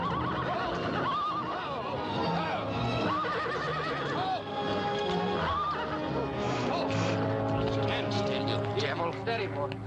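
Horse neighing and whinnying in a 1940 Western film scene, repeated loud whinnies rising and falling over orchestral music, with a brief clip-clop of hooves and people talking.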